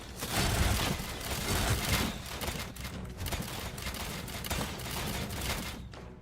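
Hundreds of turrets fire nonstop in the action game The Slormancer, a dense, continuous roar of overlapping shots and impacts with no pauses, loud and unbroken throughout.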